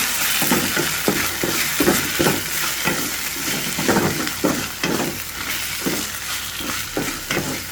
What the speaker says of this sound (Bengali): ভালো মতো কষিয়ে নেব, তারপর হলুদ মরিচ দিয়ে দেব